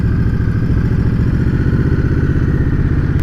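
Indian Scout Bobber V-twin motorcycle engine running steadily while riding, a loud, continuous low throbbing rumble with rapid pulsing beats held at an even pitch throughout.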